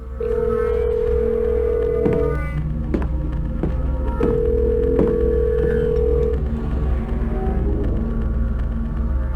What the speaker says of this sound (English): for this door is you have to ring up 555-8465. Then ring them up.